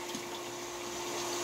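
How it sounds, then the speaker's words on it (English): Water from a hose hooked to a spigot pours steadily into a sump pump pit, a continuous broadband rush with a faint steady hum underneath, alone and unbroken throughout. "We're running water down into the sump pump"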